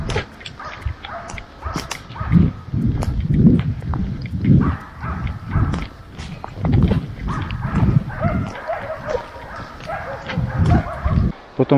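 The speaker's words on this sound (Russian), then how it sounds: "собаки все лают" Hunting dogs barking at a bear during a night hunt, a chorus of repeated, overlapping barks of varying loudness continuing without pause, with someone talking over them at times.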